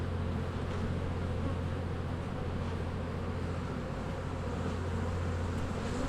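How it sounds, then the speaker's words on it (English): Honey bees buzz in a dense, steady drone around a hive box, a continuous close swarm hum with no talking. "Seems like the bees are coming back to this hive,"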